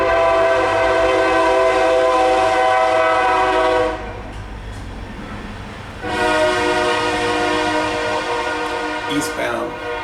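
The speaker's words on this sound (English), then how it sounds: "I hear a train." An eastbound Kansas City Southern freight train passes close by, its loud horn blaring in long blasts that break off briefly and then resume over the rumble of the rail cars, with a voice faintly underneath.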